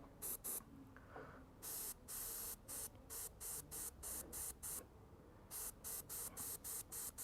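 An airbrush sprays paint onto a scale model in short, even bursts, about twenty sharp hissing pulses with brief gaps between them, close and steady, with no one speaking.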